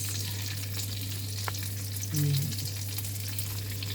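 Pork belly sautés in a pan with a constant close sizzle over a low steady hum, with a brief stirring scrape near the middle.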